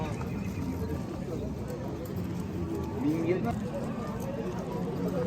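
Horses at a Nookat horse market, with hooves clip-clopping and a neigh rising briefly amid a busy crowd murmur and people talking.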